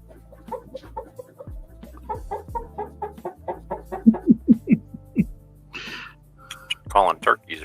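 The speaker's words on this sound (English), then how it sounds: "Calling turkeys or something. That's what it sounds like." Rhythmic clucking fowl-like calls, a quick series of short bursts growing louder, then a couple of harsher squawks, over a low hum with a voice in the background.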